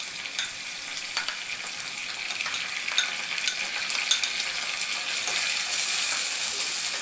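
Soaked moong dal stir-fried in a hot tempering for a radish salad, giving a steady close sizzle and frying crackle with light stirring scrapes and small ticks that grow slightly louder toward the end, with no talk.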